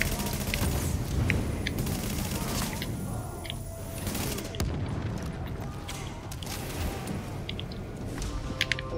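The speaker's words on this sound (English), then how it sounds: "Let's throw a grenade. Let's give them a little dumb grenade." Gunfire and a grenade blast in the video game The Division, with dense rattling shots and booms continuing throughout, loud and busy, with no clear speech over the combat.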